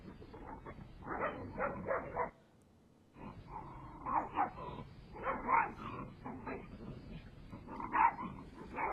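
Several dogs bark repeatedly from a backyard across the street, sharp overlapping bursts with short gaps and one brief pause, fairly distant and moderately loud.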